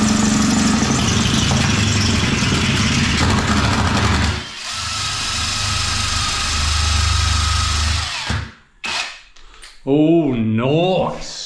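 A power drill bores into porcelain tile with a loud, continuous whine and grinding, stopping and restarting, then sharp squealing bursts near the end.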